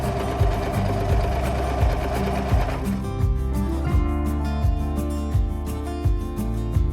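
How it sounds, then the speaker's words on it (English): A sewing machine stitches a straight seam across velvet ribbon wrapped tightly around a throw pillow cover panel, its rapid steady needle rhythm running continuously and fairly loud, with a slight shift in tone partway through. "Now I've just gotta sew a straight line."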